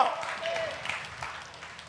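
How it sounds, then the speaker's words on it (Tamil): Short burst of applause from a church congregation during a Sunday service, fairly faint and fading out over a couple of seconds. "கைதட்டுங்க பார்க்கலாம்"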